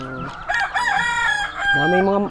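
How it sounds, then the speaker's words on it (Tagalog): A rooster crows loudly and close, its long drawn-out call rising and falling among a flock of farmyard chickens, with a second crow starting near the end and no talk over it. "Dami palang manok dito, ano?"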